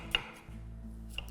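A knife chops an onion in a home kitchen with two sharp, crisp taps about a second apart. Between them a low steady hum fills the background.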